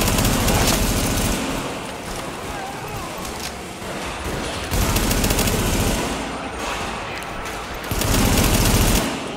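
Sustained bursts of machine-gun fire from a heavy-recoil weapon in the shooter game Tom Clancy's The Division, loud and continuous with a few brief pauses between volleys, and someone talking over it.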